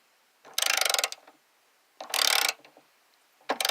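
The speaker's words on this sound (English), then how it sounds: "just tighten down as tight as you can get it" Ratcheting bursts from a wrench tightening down a rear tow hook on a car, three rapid clicking runs of about half a second each with short pauses between, close and loud.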